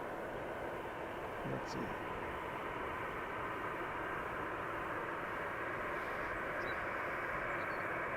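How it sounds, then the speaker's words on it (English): Jet airliner engine roaring at a distance during early morning plane spotting, a steady broad wash of noise that stays constant throughout, with a brief spoken phrase near the start. "jet engine sound"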